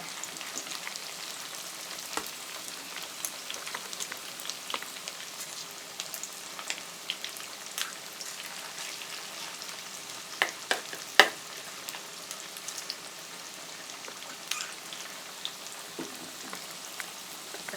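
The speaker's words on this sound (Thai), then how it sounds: "เดี๋ยวมันจะไหม้แล้วก็ค่อยๆทอดไป" Banana blossom fritters (tod man hua plee) fry in oil over medium heat, giving a steady, faint crackling sizzle with scattered small pops throughout and no voices.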